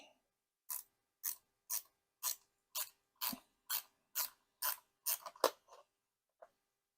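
Phillips screws are turned out of the underside of an Alienware 17R4 laptop with a screwdriver, giving about ten short, evenly spaced ratcheting clicks, close and clear, followed by a few scattered taps.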